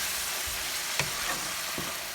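Biryani gravy bubbling in a pot after boiling water is poured in, a steady sizzling simmer with a few soft stirring knocks close by.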